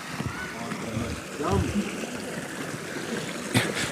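A mountain stream flows along a hiking trail near the glacier at Arang Kel, a steady rushing and trickling wash of water with a few splashes. A voice talks faintly over it.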